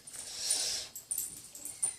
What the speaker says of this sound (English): Yes, that's one of my dogs.